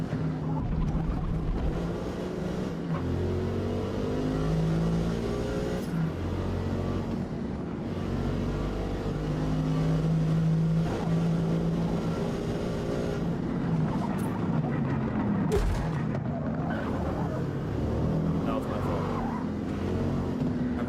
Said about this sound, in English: bouncing off the rev limiter too much